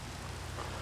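Rainfall patters quietly in the background as a soft, unbroken wash of noise over a low hum. It lasts only a moment and there is no talking.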